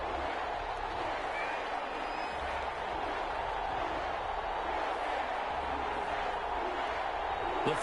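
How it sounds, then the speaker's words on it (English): Steady, dense stadium crowd roar from the Madden 21 football game, Tennessee Titans against New Orleans Saints, holding an even, continuous level throughout with no breaks or distinct voices standing out. "This crowd is ready"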